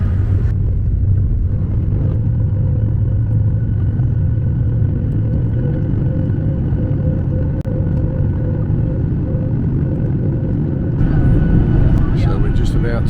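Steady low cabin rumble of an airliner descending toward a landing in Florida, a constant loud drone that barely changes, with a brief click partway through and no talk over it.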